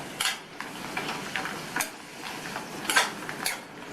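Tomatoes sautéing in an open pan for a chutney, a soft low sizzle broken by irregular sharp scrapes and clinks of a spoon stirring against the pan.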